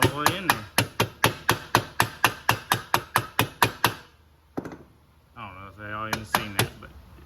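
Close, evenly paced knocks from a rubber hammer drive a wheel bearing seal into a Honda TRX90 ATV rear hub, about sixteen quick strikes followed by a pause, then brief talk and a few final taps.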